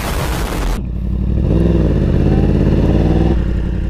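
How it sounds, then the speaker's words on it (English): Motorcycle exhaust, close and loud: a sharp burst of crackling pops that cuts off abruptly, followed by a steady engine drone for the remaining few seconds. "Pop, pop! Scooby-Doo, pop, pop! And the beat go boom!"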